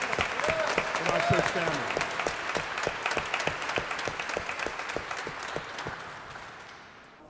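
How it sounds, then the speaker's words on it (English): Church congregation applauds warmly, a sustained wash of many hands clapping that gradually fades toward the end, with a person speaking briefly near the start. "Give God a round of applause for what God has done"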